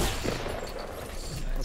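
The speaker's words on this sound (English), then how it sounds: "I'm getting shot from the side." Gunfire in the Fortnite battle royale video game, a quick burst of several shots over a noisy background, brief and fairly faint.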